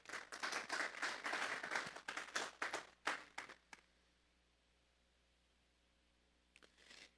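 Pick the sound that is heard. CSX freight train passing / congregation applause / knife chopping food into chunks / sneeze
congregation applause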